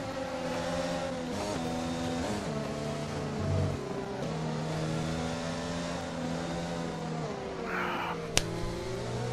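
Formula 1 cars in the F1 2020 game at the Brazil qualifying session, engines whining and shifting through gears as two cars draw closer, with a sharp click near the end.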